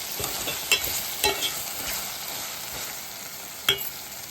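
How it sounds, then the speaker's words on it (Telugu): Brinjal and tomato fry in oil in a pan for chutney, giving a faint, steady sizzle broken by a few sharp stirring clinks and scrapes of a spoon. "ఈ విధంగా ఇంకా మనకు కొంచెం వేగాలి."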